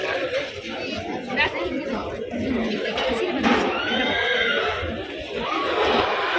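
A horse whinnies at a large, busy horse market in Tamil Nadu, rising through steady crowd chatter while someone talks nearby.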